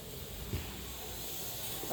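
A soft, steady hiss of steam escaping from a pressure cooker of sambar runs throughout, fairly quiet and continuous with no whistle.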